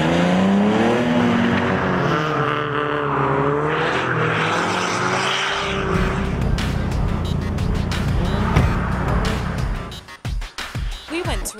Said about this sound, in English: We went to a drift school that is based at Brands Hatch, spending time with amateurs who all want to learn more about the art of driving a car sideways.